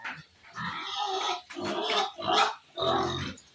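Three pet pigs grunt and squeal in a noisy run of overlapping bursts, close and loud, with short pauses between them.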